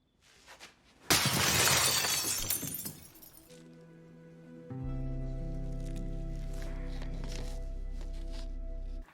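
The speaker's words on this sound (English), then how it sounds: "Still kind of sad she broke that glass." Glass shatters in a scene from the TV drama The Last of Us: a loud, crashing burst of breaking glass with scattering debris. Afterward come a low musical drone and softer rustling.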